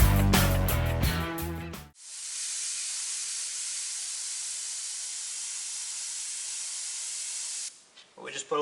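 A spray gun lays red candy paint over a stencil, letting overspray drift onto orange. After a brief stretch of a voice talking, a loud, steady airy hiss runs for about six seconds, then cuts off abruptly.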